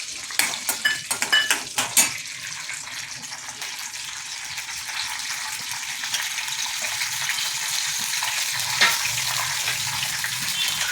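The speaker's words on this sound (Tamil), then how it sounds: "இந்த சைடில் வெளிச்செண்ணெய் விட்டுருக்கு பொரிச்சு கொட்டுறதுக்கு. அதுக்கு கடுகு, உளுத்தம்பருப்பு," Mustard seeds, urad dal and dried chillies fry in coconut oil, opening with a quick run of sharp clinks and pops from the pan before settling into a steady, close sizzle.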